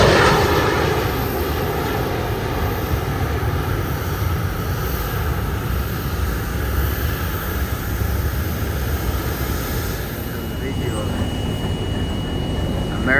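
American Airlines airplane passing overhead, a broad steady roar of jet engines holding loud throughout with wind-like rumble and no talk.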